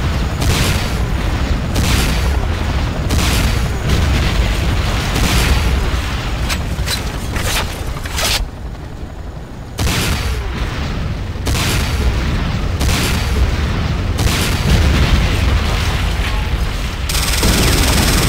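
Missile explosions and gunfire from the video game C&C Renegade form a loud, dense barrage of booms and bursts that continues almost without pause.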